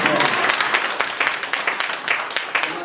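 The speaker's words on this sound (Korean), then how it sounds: "그럼 박수 한번 주세요." An audience at a Korean New Year celebration gathering breaks into warm applause, dense steady clapping from many hands filling the room at fairly close range.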